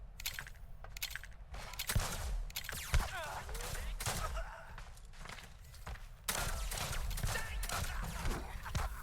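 Gunfire in the video game Wild Bastards: fairly quiet bursts of shots and rattling fire mixed with footstep-like shuffles, coming in uneven clusters throughout.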